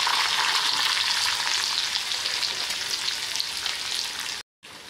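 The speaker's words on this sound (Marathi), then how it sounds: "तेल तापलं आहे, त्यात घालूया मोहरी, थोडा हिंग, कढीपत्ता आणि आलं लसूण हिरवी मिरची जिरे पेस्ट करून घेतली आहे." Mustard seeds, asafoetida and curry leaves fry in hot oil with a loud, dense, continuous sizzle and crackle, up close, with a brief dropout near the end.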